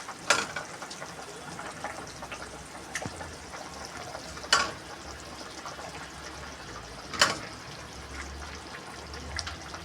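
Fried fish pieces dropped into a boiling fish curry: a soft steady bubbling simmer broken by several sharp splashy pops as pieces go in one after another, fairly quiet, no speech.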